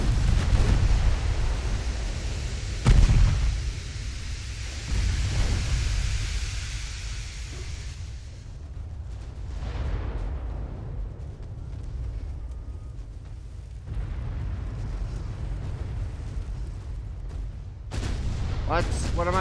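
Naval gunfire in the warship battle game Ultimate Admiral: Dreadnoughts, heavy booming salvos and a loud rumbling roar that fades and then swells again, with voices talking over it.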